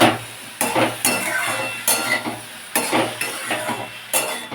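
Salt being stirred into cauliflower stalk curry in a pan, with a spoon scraping and clinking against the pan in repeated strokes over a soft sizzle.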